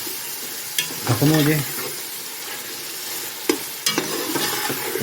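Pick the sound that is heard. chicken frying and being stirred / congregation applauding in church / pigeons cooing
chicken frying and being stirred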